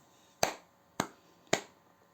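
Children in a kindergarten exercise session clap their hands three times in an even, steady rhythm, each clap a sharp, crisp slap against a quiet room.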